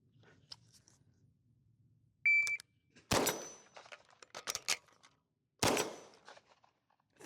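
Gunfire from a CZ Scorpion Evo 3+ with a few sharp cracks and echoing tails, spread irregularly among quieter clicks and faint low rumble, with no speech.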